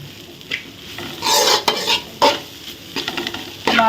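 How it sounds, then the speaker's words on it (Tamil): Poha upma is stirred with masala in a pan: short bursts of spatula scraping and metallic clinks over a faint background sizzle, close up with no talking. "எல்லாம் நல்லா மிக்ஸ் மசாலா எல்லாம் அவல் ஃபுல்லாக பிடிக்கிற மாதிரி மிக்ஸ் பண்ணுங்கள்"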